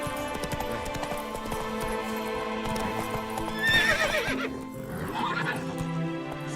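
Roach, the horse in The Witcher 3, gallops with rapid rhythmic hoofbeats and lets out a loud neigh midway. Game music plays steadily underneath.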